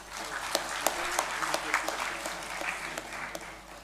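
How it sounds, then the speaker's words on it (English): Applause from an audience at a university engineering first-year induction ceremony, steady crowd clapping with a few sharper claps standing out, moderately loud throughout. "Big round of applause."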